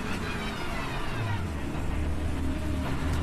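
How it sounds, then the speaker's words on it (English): A Porsche 911 race car pulling into the pit lane during an endurance race at Brno, its engine a steady close drone mixed with surrounding pit and traffic noise. "Hermann Speck also entering the pit lane in his Porsche 911,"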